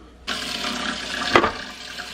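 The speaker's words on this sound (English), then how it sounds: "And then I'm just going to fill it up with water and let these cook" Water runs from a tap into a crockpot holding beans, chicken and bacon ends, a sudden steady gushing pour with a brief louder splash partway through, close and alone.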